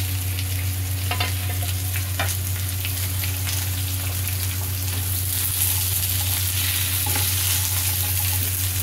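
Brinjal and drumstick stalks fry in a little oil for a Bengali sukhta, a loud, steady, continuous sizzle heard up close with no voices.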